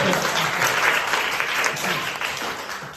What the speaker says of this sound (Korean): 그래 박수 쳐요 박수 쳐